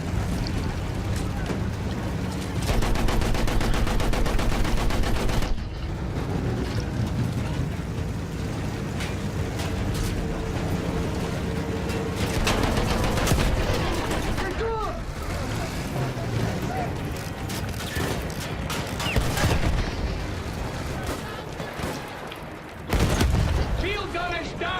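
Battlefield 1 video game battle with sustained rapid gunfire and booming blasts, dense and loud, with soldiers' voices shouting over the combat noise.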